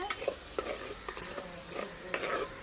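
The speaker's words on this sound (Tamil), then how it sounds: "ஏற்கனவே இது நல்லா வதங்கிட்டு இருக்கு" Ingredients for a mutton curry sauté in a pan, with a soft continuous sizzle and a quick run of scraping, tapping spatula strokes, fairly faint and with no talk.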